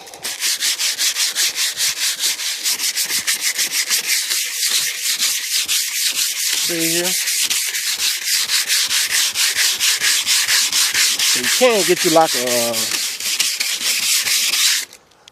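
Hand sanding on the body of an 1988 Cadillac DeVille makes a loud, close, rhythmic scrubbing, fast regular strokes running nearly nonstop, while someone speaks briefly over it.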